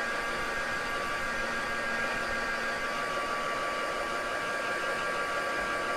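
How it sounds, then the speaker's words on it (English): A heat gun blowing steadily to dry glossy glue on a mixed media craft project, a continuous even whooshing hum with a faint whine, constant and close throughout with no talking. "give us up with a heat gun"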